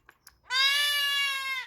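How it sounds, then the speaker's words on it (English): A newborn kid goat on a farm lets out one long, loud, close bleat lasting over a second, after a couple of faint short sounds. "Forgotten how loud baby goats are."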